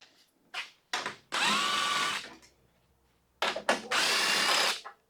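A power tool with an extension drives out 10 mm bolts from the fan shroud of an OBS Chevy or GMC truck: short whirring blips, then two sustained close whirs separated by a quiet pause.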